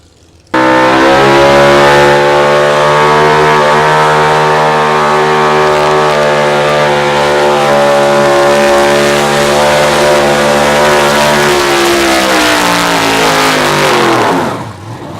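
A Pro Stock 4x4 pulling truck roars through a full pull at an outlaw truck pull in Wisner, Nebraska, its engine loud and sustained at high revs for over ten seconds before cutting off abruptly near the end.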